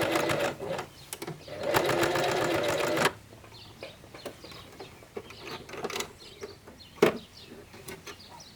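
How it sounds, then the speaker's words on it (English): A sewing machine stitches the elastic band of homemade climbing pants in two fast, buzzing bursts, followed by quieter clicks and handling noises of the fabric and machine. "sew the end to the start of the band"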